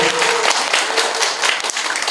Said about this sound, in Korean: 박미영 선생님께 큰 박수 부탁드리겠습니다